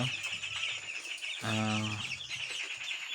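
Twelve-day-old broiler chicks in a coop, a continuous chorus of high chirping peeps with a louder, closer call about halfway through, set against a low background hum.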